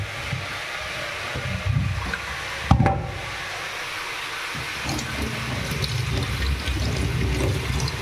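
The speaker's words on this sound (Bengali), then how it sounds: "এখানে আমি ততক্ষণ ধনে পাতাটা ধুয়ে রেডি করে নিই।" Tap water runs steadily while coriander leaves are rinsed for a cauliflower and koi fish curry, a continuous broadband rush with a brief louder splash near the start.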